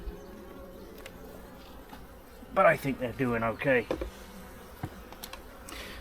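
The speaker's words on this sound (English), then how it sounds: "Looks like there's a lot of bees right here." Honeybees buzzing across frames in a split hive of about twenty frames, a steady low drone under the scene with a louder close burst of buzzing near the middle, while a person talks quietly.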